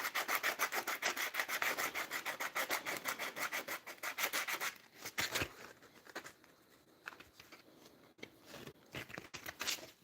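A turned wooden wizard wand being sanded with 100 grit sandpaper on a lathe, a steady rapid rubbing rasp that runs dense and loud for the first half, then turns patchier and softer with brief gaps.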